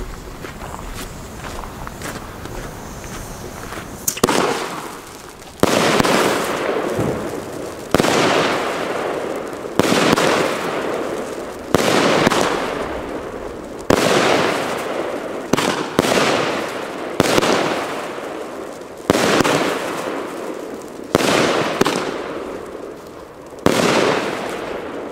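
An Argento Plasma 13-shot, 30 mm caliber firework battery fires a string of sharp bursts at regular intervals, each pop followed by a crackling tail, heard from a distance outdoors.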